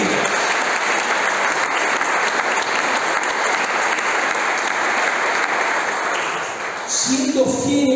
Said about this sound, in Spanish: Fuerte el aplauso a Jesús.